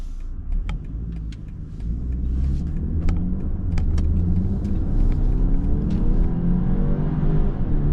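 A 2022 BMW X3 x30i pulls away and accelerates, its low engine rumble rising steadily in pitch under road noise, with a few faint clicks, heard from inside the cabin.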